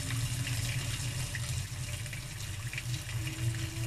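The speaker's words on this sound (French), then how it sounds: "je suis en train d'ouvrir le robinet à fond. Vous le voyez ici, là, ça coule fortement" A kitchen tap opened fully, water gushing hard in a steady, unbroken roar that stays loud and close for the whole stretch, used during a reduced-pressure boiling-water experiment.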